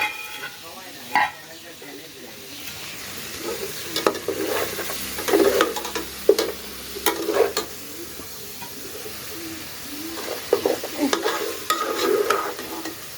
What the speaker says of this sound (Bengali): এবারে গুস্তাটা কষাইতেছি